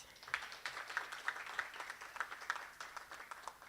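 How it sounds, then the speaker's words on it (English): An audience at a provincial evaluation and research seminar gives a speaker a round of applause: faint, distant hand claps with a few sharper claps standing out in a loose, regular rhythm. "Let's give him again another round of applause."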